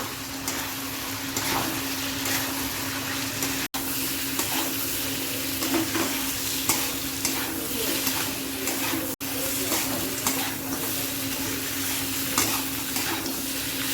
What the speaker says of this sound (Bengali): এখন এর মধ্যে মাথাটাও দিয়ে দিব। এখন সবগুলা দিয়ে এখন ভালো করে কষাই নেব।